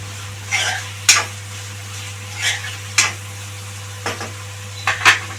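Stirring farm chicken curry with onions and green chillies in oil: a few separate scraping clinks of a spoon against the pan at irregular intervals over a faint sizzle and steady low hum.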